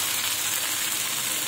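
Chopped tomato frying in hot ghee gives a loud, close, steady sizzle that hisses without a break through a brief moment, with no voices.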